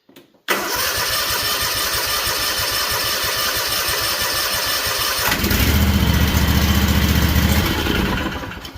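A Kawasaki FR730V engine fitted to a Cub Cadet SX60 mower cranks briefly, catches and fires into a loud, steady running drone, the note deepening and roughening midway before settling back, with no talk over it.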